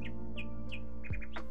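A kingfisher gives a few short, sharp chirps in quick succession, fairly clear and alone over a steady low hum in the background.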